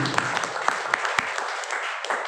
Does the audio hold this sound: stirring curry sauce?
no